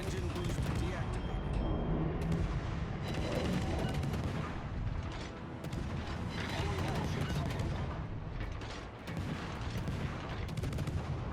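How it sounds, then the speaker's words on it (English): Warship guns in a naval video game firing at the Hindenburg, repeated heavy booms and rumbling blasts over a dense, continuous battle din, with someone talking throughout. "Let's start shooting at him."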